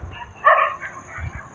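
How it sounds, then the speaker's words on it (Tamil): A dog barks once, a loud close bark followed by softer low grumbles, outdoors near a house, with no talk in the moment. "பின்னாடி குலைக்குது நாய், பின்னாடி குலைக்குது."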